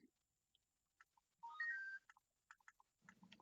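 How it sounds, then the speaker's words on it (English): A short electronic text-message chime from Halo plays faintly as a rising sequence of tonal beeps, surrounded by sparse clicks and a low murmur near the end. "That was a nice ringtone, whatever that was."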